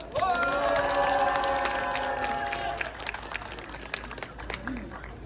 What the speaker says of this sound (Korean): 힘찬 박수 함성으로 시작하겠습니다